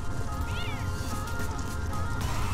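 Cats meowing in The Sims 4 during a household fire, a drawn-out meow rising over busy game sound effects and background noise.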